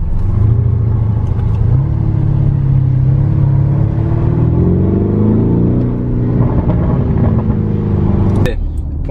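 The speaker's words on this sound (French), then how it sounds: "La sonorité de l'échappement au retour de flamme là" A Lamborghini Urus SUV decelerates, its engine droning with a falling and rising exhaust tone, then a sharp backfire crack rings out near the end.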